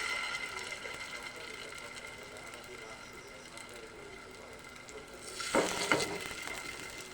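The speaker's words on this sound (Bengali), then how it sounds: "তো এখন কিছুটা সময় ভেজে নিই" Fritters frying in hot oil in a wok give a steady close sizzle that swells into a louder, crackling burst near the end.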